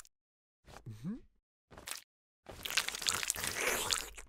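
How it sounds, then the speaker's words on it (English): A cartoon character slurps food in wet, squelchy slurping and crunching bursts, three separated spurts, the last one longest and messiest, close and fairly loud. "Why you slurping like that?"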